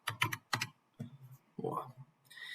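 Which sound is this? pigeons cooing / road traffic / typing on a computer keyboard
typing on a computer keyboard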